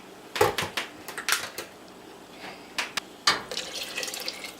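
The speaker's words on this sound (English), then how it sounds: "I'm adding 1 cup of lime juice." A cup of lime juice is poured into a pot at a rolling boil while canning cherry cordial, giving bursts of splashing and liquid noise with a few sharp clinks, close by, with no talking.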